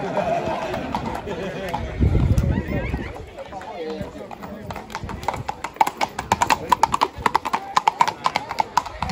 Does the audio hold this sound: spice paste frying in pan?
no